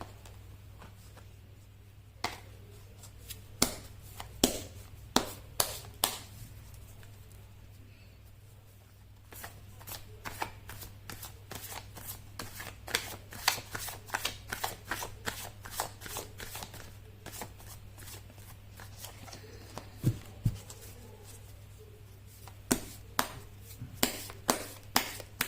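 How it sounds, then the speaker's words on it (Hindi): A deck of tarot cards is shuffled by hand over and over, giving quick riffling bursts and sharp snaps in a long irregular rhythm. The sound is close and quiet over a low steady hum. "कर लेती हूँ कार्ड की शफलिंग।"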